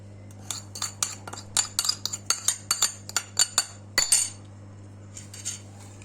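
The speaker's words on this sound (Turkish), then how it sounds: "Harcımızı iyice karıştırıyoruz." Spoon clinking repeatedly against a bowl while stirring a dry spice mix of thyme, cumin, mint, chili flakes and garlic for homemade Doritos-style chips, a close, quick run of bright metallic taps that pauses and then resumes faintly.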